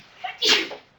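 A single sharp human sneeze bursts out in a classroom during a math lecture, brief and fairly close, with a short intake of breath before it.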